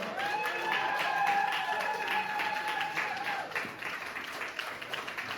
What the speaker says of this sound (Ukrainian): Ще раз оплески і яко.